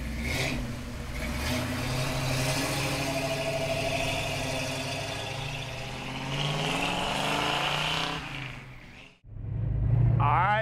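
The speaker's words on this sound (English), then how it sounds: "Let's take the 67 Mustang S Code Coupe for a ride." A 1967 Ford Mustang S-code coupe engine running, a steady throaty rumble heard from inside the car that rises and falls slightly, cuts out briefly near the end, then returns loud.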